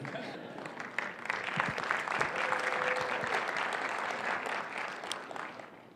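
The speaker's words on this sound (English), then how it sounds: "You go ahead and clap, because it's true." An audience claps at a 2014 Martin Luther King Day speech event, broad sustained applause that swells and holds for several seconds before easing slightly, with a brief voice or tone briefly audible beneath it.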